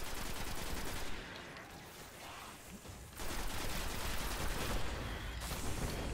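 Auto rifle fire in Destiny during the Shrine of Oryx mission, a dense, continuous rattle of rapid shots that breaks briefly and then resumes, loud and close with no voices.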